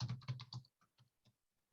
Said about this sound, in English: I'm just typing in the word objections like a Google search inside the group.